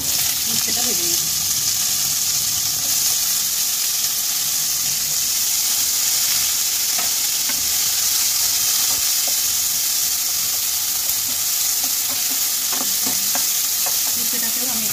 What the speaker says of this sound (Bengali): উচ্ছেটাকেও আমি একটু লাল করে ভেজে নেব।